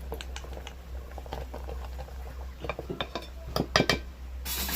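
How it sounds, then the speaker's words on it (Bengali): A wooden masher works through thin tomato masoor dal in a pot, giving soft irregular knocks and wet squelches that cluster into a quicker run of taps near the end, quiet and close over a low background hum. "একটা কাঠের ঘুটুনি নিয়েছি এবার এটাকে ঘেটে দেব"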